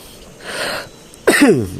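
A single harsh cough bursts out near the end, preceded by a soft breathy sound.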